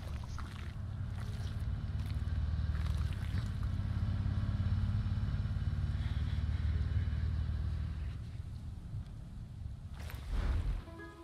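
A vehicle in a tactical shooter game rumbles steadily along a road, a low, constant engine drone that holds for several seconds before easing off, with a brief clatter near the end and no speech.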